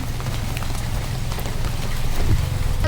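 Rain falls steadily over tea-covered hills, a dense, even hiss of drops close by with a low rumble underneath and no pauses.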